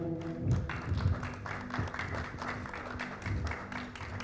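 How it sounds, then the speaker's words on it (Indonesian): Wedding guests applaud at a ceremony, uneven clapping at moderate distance mixed with murmuring voices and a few louder low thumps. "Boleh tepuk tangan Bapak Ibu semuanya."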